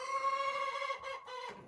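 Silkie chickens in a coop give a short, close series of clucks and tonal calls, fairly quiet, with a brief pause between them.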